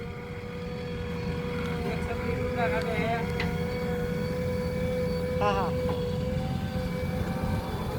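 A tractor engine runs steadily at close range, a continuous low rumble with a constant tonal whine, while a JCB loads it; a voice briefly speaks over the engine noise.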